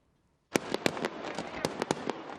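Festival fireworks in Las Palmas de Gran Canaria, a string of sharp cracks and pops with crackling between them, starting suddenly after a brief silence and spread across about two seconds.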